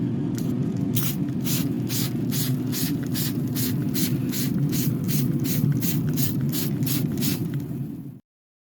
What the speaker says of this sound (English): Let's go spray these ribs.